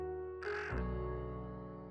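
A single crow gives a harsh caw, fairly close and clear, followed by a lingering low tone with no talking.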